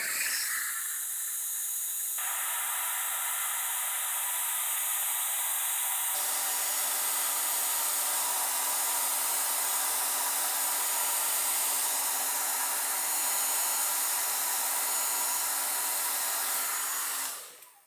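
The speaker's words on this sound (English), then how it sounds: "So I'm going to really quickly dry that with my hairdryer." A hair dryer blows steadily to dry a watercolour sky wash, a loud continuous whooshing hiss that holds for about seventeen seconds before cutting off abruptly.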